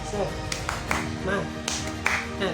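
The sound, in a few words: children clapping rhythmic spirit clap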